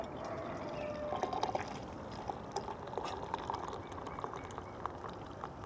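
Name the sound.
pouring water into pan of camp coffee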